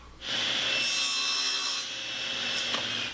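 Hand saw cutting through a wooden cigar box guitar headstock, a steady continuous rasping stroke that stays loud and close for about three seconds, no talking.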